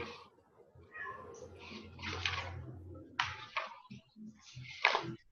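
Cat meows several times at close range in a quiet indoor room, short separate calls with brief gaps and a soft background murmur.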